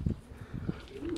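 Racing pigeons arriving at a loft and aviary, soft cooing and brief fluttering sounds close by, with faint voices in the background.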